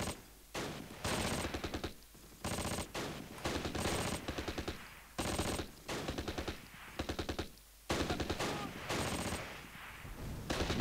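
Sustained bursts of machine gun fire in the Close Combat WWII strategy game, rapid rattling volleys repeating in short clusters with brief pauses between, loud and dense throughout.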